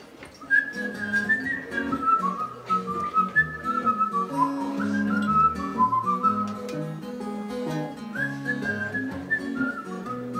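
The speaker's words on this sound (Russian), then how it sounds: "а здесь много-много свиста" A single whistler carries a lively, continuous melody for about ten seconds, close and clear, over a steady instrumental accompaniment.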